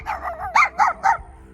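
Dogs barking in a graveyard at a grave, a quick run of four sharp barks close by and loud, with no voices.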